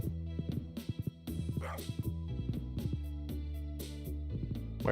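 A dog in the Stardew Valley video game barks in short repeated bursts over a busy, steady game music backdrop, the barks fairly close and clear.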